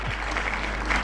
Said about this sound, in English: We need some claps for that.